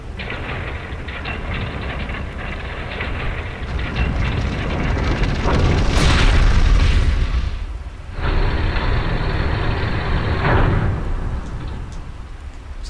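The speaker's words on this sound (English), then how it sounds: "the crate has arrived at the compactor, so I'm just going to push her in" A heavy crate is shoved into a compactor in the Resident Evil REmake, producing a loud, sustained mechanical rumble and roar that swells, briefly drops out, then resumes at full strength.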